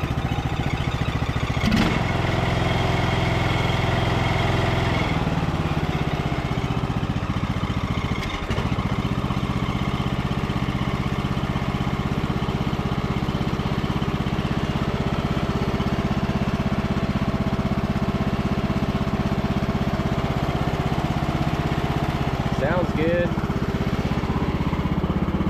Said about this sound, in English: It is idling really smooth.